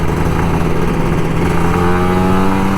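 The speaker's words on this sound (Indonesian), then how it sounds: "suara garingnya Ninja" A Kawasaki Ninja RR 150 two-stroke motorcycle engine runs loud and close with a steady, raspy buzzing tone, sustained without pause and with no talk over it.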